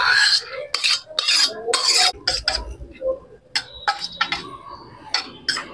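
Bengali pui metuli chorchori with shrimp, a thick cooked vegetable dish, is scraped out of the pan in short bursts of spatula scraping and clattering, separated by brief quiet gaps.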